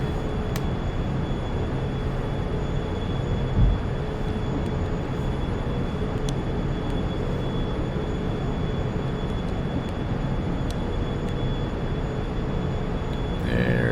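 A steady, droning airliner engine roars during the climb after takeoff in a flight simulator, a constant loud hum with a sustained high whine and no letup throughout.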